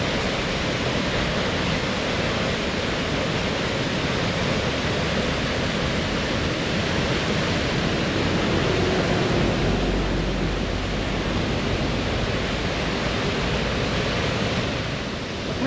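A mountain waterfall in the Nelong and Jadung valley of Uttarakhand sprays water onto the road, giving a steady, loud, broadband rush of falling water that continues unbroken with no voices.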